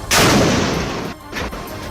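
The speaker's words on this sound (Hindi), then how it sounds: "इधर बटन दबा, उधर इमारत में बम फूटा और देखते ही देखते इमारत में आग लग गई" A bomb going off inside a building, with a sudden loud blast followed by a long rumbling roar and a second, smaller burst near the end, with no voices.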